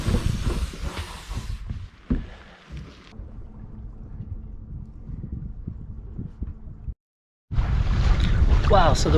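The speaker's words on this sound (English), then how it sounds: "so the wind's really picked up" Wind buffeting a sailboat under an asymmetric spinnaker, rough gusting rumble on the microphone with water noise, loud bursts at the start and end around a quieter stretch and a brief dropout.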